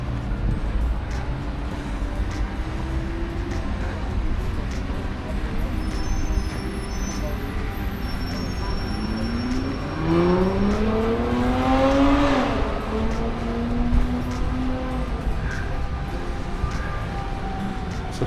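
Cars driving past on a road near a greenway trail under a bridge, engines swelling and fading as vehicles pass close by, with steady traffic rumble throughout and one louder pass in the middle.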